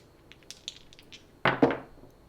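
Dice rolled across a casino craps table: a few faint light taps, then two sharp clattering bounces close by, with no talk.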